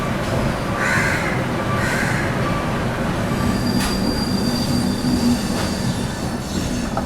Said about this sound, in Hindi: CR राजधानी निकल चुकी है।